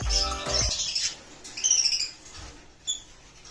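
Caged birds chirp and tweet close by in short bursts, with a flutter of wings and a squawk near the end.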